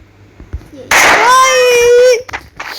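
A loud shotgun blast in the Free Fire battle-royale game, a sudden broadband burst trailing into a ringing tone for about a second, with faint talk and small clicks around it.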